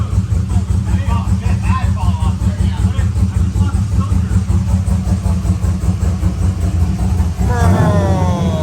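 A used drift car roars on a dyno, its engine held at high revs in a loud, steady drone with the tires spinning. The pitch climbs near the end, and voices murmur faintly underneath.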